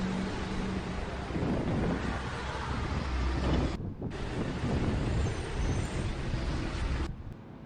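Wind gusting in Ukraine and buffeting a microphone, a loud, steady broadband roar that cuts out briefly twice before rushing back.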